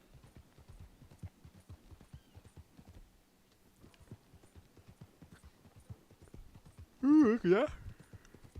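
A pony's hooves clip-clop in a steady walking rhythm in a video game, with a person's brief spoken remark near the end.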